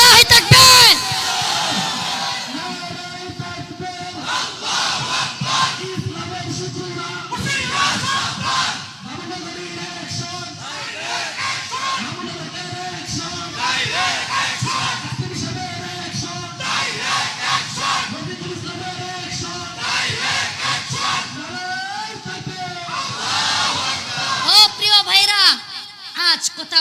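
A large crowd at an Islamic religious gathering chants the takbir in loud, repeated rhythmic call-and-response bursts, swelling and falling in waves over about half a minute, with a leader's voice calling between the chants.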